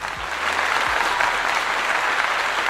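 Applause from an audience in a hall, a steady dense patter of many hands at moderate loudness that holds evenly without speech on top.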